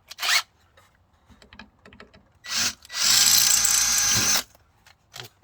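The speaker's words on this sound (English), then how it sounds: "I'll go back to that original drill bit and just touch through the outside hole here" A power drill with a drill bit passing through the outside hole of a rotten camper wall, heard as a short burst, a second brief burst and then a longer steady whir of about one and a half seconds, close and loud.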